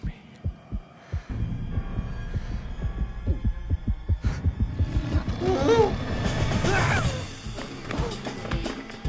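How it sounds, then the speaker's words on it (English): A heartbeat sound effect from a comedy movie starts as a series of deep, evenly spaced thumps. It then thickens into a louder rumbling, throbbing hum with other muffled sounds mixed in. "heartbeat"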